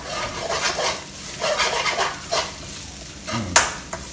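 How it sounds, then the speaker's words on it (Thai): Curry paste is stir-fried in a pan for a spicy softshell turtle dish, with soft sizzling under repeated scraping strokes of a utensil and a couple of sharper metallic clinks near the end, close by. "เฮาพัดพริกแกงให้มันหอมเอาไว้พี่น้อง"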